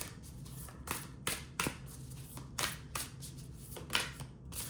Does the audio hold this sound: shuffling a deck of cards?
yes